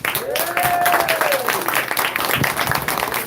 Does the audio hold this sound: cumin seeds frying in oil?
no